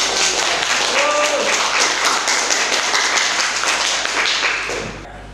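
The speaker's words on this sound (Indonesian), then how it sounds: "Silakan tepuk tangan untuk kasih." Applause in a classroom: students clap together in a fast, dense patter, loud and close, that carries on steadily before tapering off at the end, with some voices underneath.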